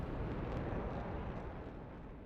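Aircraft engines in a flight game, with planes returning to base, produce a dense, continuous roar that holds steady and loud the whole time, easing only slightly toward the end.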